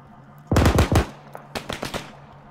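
Video game gunfire in a military mission: a dense, loud burst of automatic fire lasting about half a second, then scattered fainter shots and a second shorter volley, with no speech.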